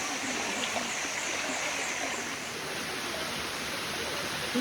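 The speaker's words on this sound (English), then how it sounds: "There's so many different waterfalls." Waterfalls pour steadily in a jungle setting near Chiang Mai, a dense, even rush of falling water that stays at one level and fills the scene throughout, with no voices.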